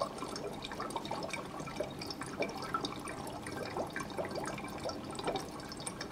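Dry ice fizzes and bubbles in water, with dense, continuous small pops and gurgles as bubbles burst at the surface, quiet and close with no voices.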